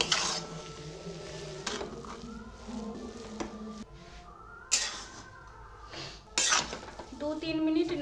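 A spatula scrapes and clinks against a pan while stirring potato and egg chop filling with garam masala, chaat masala and black salt, giving sharp metallic knocks between stretches of a voice talking.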